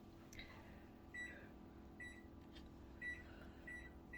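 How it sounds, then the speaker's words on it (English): Home microwave oven giving a series of short, high beeps in evenly spaced groups, faint and close over a quiet room hum. "You guys ready to hear my microwave beep?"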